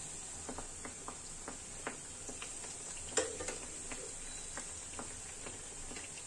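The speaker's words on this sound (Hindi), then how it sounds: "इसे हमें मीडियम आंच पे फ्राई करना है दोनों तरफ से अच्छा कलर आने तक" Bathua and potato stuffed kachoris deep-frying in hot oil over medium heat: a steady, quiet sizzle with faint crackles and occasional light clinks and ticks.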